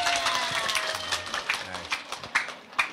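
A small audience claps unevenly at a religious gathering, with scattered sharp hand claps that thin out and trail off into isolated slaps.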